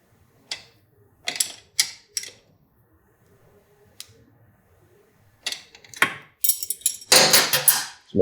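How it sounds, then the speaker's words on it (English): A wrench tightens the jam nuts on a Kawasaki Ninja 400 clutch cable in a series of short metallic clicks and ratcheting bursts, separated by quiet gaps and ending in a denser cluster. "Go ahead and tighten up the jam nuts here."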